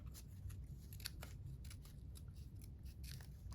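Scissors snip out a paper sticker in a rapid series of small, crisp cuts, close up and quiet.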